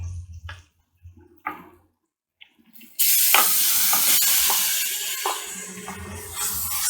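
Mutton frying with cooked onions in a pan for Sri Lankan spicy mutton rolls: a few quiet clinks, then a sudden loud, steady sizzle with intermittent stirring scrapes, no voices.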